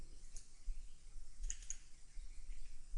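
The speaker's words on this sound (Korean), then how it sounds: "클릭" A few sharp computer mouse clicks, spaced apart and faint over a low background hum while working in Autodesk Inventor 2015 CAD software.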